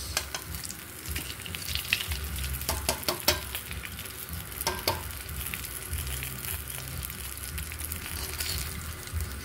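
Dried milkfish (daing na bangus) frying in hot oil gives a steady, close crackling sizzle with scattered sharp pops throughout, no voices.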